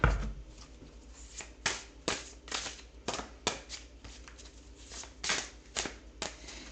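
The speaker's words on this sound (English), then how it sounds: "So I will cut the deck, and then I will shuffle it 3 times." Oracle cards are cut and shuffled by hand, giving a series of crisp riffling snaps and flutters at an uneven rhythm, close up and moderately quiet, with no talking.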